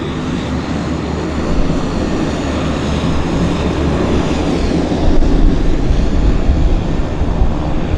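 A Boeing 787 Dreamliner airliner at Vancouver airport roars with a loud, continuous broadband engine rumble that swells slightly midway, heard alone without talk.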